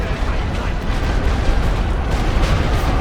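Machine gun and battlefield fire in the WWI strategy game Great War Western Front, a loud, dense, continuous rumble of rapid shots and booming blasts with no pauses.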